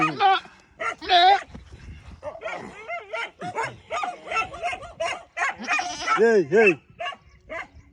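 A dog on a Boer goat farm barks and yips repeatedly in short, irregular bursts, loud and close, with a person briefly calling out between barks.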